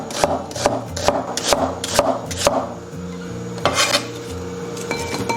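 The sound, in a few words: onion being cut into shreds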